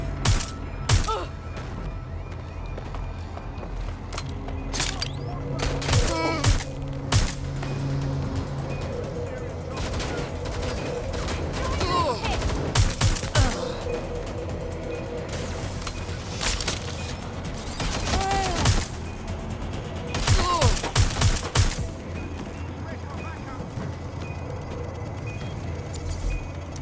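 Bursts of gunfire from the video game Watch Dogs Legion, with sharp repeated shots and volleys scattered over a steady game background, a player's voice groaning and talking at times.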